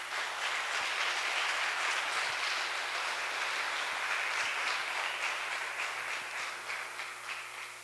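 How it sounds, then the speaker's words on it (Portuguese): A church congregation applauding, a broad wash of clapping that sounds distant and fairly faint, steady for several seconds before gradually fading, with a low hum underneath. "Se você querer, dar um aplauso a Jesus"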